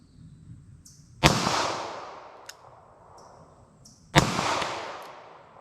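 Two sharp 9mm gunshots from Winchester Ranger One ammunition fired at a steel target, about three seconds apart, each with a ringing, decaying tail and faint metallic pings between them.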